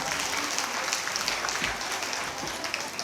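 An audience at a school's anniversary celebration applauds in a continuous, fairly distant patter of many hands, steady from start to finish with no voices.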